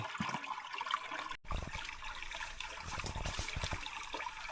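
Water rushes and trickles steadily through an irrigation channel by a rice field, a continuous flowing wash with a brief dropout partway through.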